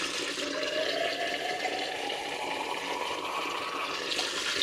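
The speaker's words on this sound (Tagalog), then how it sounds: "konti lang yung ilalagay kong tubig" Water pours steadily into a cooking pot, a continuous gushing splash that holds at an even, close level for several seconds with no talk over it.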